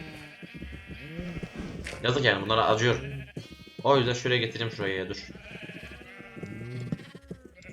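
Sheep in the Minecraft video game bleat a couple of times in short wavering bursts, close and clear, while someone talks over them in Turkish throughout.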